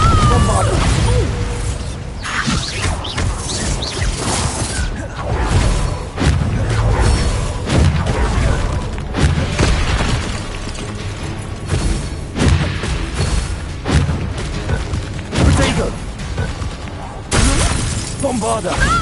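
Spell explosions from Confringo and Bombarda blasts in the Hogwarts Legacy video game, dense crashing and shattering bursts repeating throughout amid combat noise, with voices shouting spell names over them.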